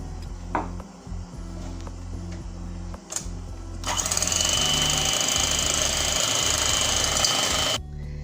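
An electric mixer beats eggs with sugar and vanilla for a filo pastry cake. After a few seconds of quiet kitchen clatter, the mixer starts and runs as a loud, steady whir for about four seconds before stopping abruptly.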